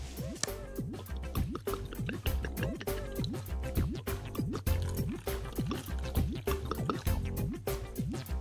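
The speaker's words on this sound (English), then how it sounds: "Add a little water to make the paint runny." Water poured into cups of paint, small repeated drips and splashes in a quick uneven rhythm, close and fairly quiet, with no talk.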